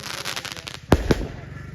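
Firecrackers at a village birthday celebration go off in two sharp, loud bangs close together, following a softer crackling patter.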